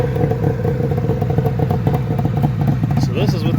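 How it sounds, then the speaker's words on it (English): A loud 1975 Suzuki GT550 motorcycle engine idles with a rough, throaty rumble and irregular popping exhaust pulses through its stock exhaust missing one baffle, steady throughout, heard close up. "this is with the stock exhaust minus one baffle."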